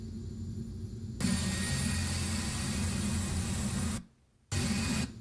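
A Beechcraft King Air 200 twin turboprop in the FSX flight simulator makes a steady broadband engine roar that jumps louder after a second, holds, then cuts out briefly before returning, with no voices.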